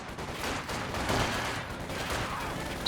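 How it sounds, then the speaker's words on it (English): Sustained gunfire in Company of Heroes 2 during a 2v2 match on the SOMA map, a dense rattling fusillade with machine gun bursts cutting down infantry, steady and loud across the whole stretch without voices. "conscripts getting shut down or combat engineers by the machine gun"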